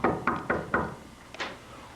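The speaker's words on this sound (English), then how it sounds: "she heard a knock on the door." Four quick, evenly spaced knocks rap on a door, fairly close and clear, in a school stage production of Cinderella, followed by a single fainter tap; no voices are heard.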